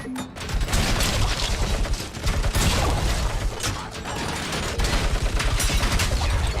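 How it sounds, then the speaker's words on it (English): Sustained heavy machine gun fire from a video game shooter set in RoboCop: Rogue City's Detroit streets, a dense continuous rattling burst running loud and close for the whole stretch with no gaps. "Heavy machine gun finally."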